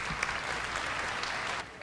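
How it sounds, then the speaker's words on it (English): A crowd at the Missouri State Fair sale of champions claps steadily for a livestock show winner's grand champion pen of rabbits, a dense, even round of applause that drops off just before the end. "give Christina and her Grand Champion Pen of Rabbits another round of applause"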